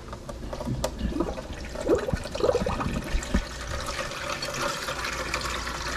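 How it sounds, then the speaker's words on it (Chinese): Water runs from a kitchen tap in a home kitchen, a steady low stream that hisses continuously, close to the microphone, with a few faint knocks and clinks of dishes. "洗菜就用另外那个水龙头的水。"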